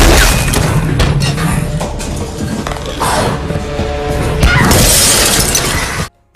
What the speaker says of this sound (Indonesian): monster tersebut terus melawan hingga membuat beberapa kaca mobil Satya pecah